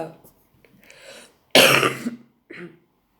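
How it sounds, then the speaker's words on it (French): A single harsh, wet cough bursts out loudly, with faint murmuring before it and a short throaty sound just after. "cette toux, elle est dégueulasse"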